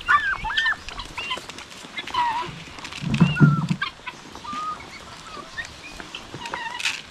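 Chickens and guinea fowl cluck and chirp in a farmyard, with repeated short calls scattered throughout and one louder, lower squawk near the middle, all over a busy background of outdoor noise.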